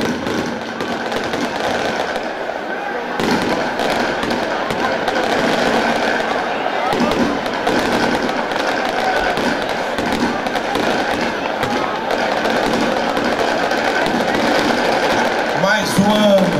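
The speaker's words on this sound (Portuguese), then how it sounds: "Que linda queima de fogos em Natividade da Serra." A town fireworks display bursts over Natividade da Serra during a festive celebration, heard as a steady stream of crackles and thumps. People cheer and talk throughout.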